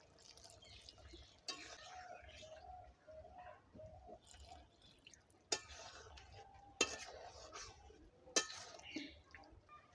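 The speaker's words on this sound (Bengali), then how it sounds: "এবার কর্নফ্লাওয়ার গুলানোর জলটা দিয়ে দেব। অল্প অল্প করে দেব" Cornflour slurry is added little by little to a pan of chilli chicken sauce and stirred in, making soft wet bubbling and scraping, with occasional sharp clinks of a spoon against the pan and a voice speaking over it.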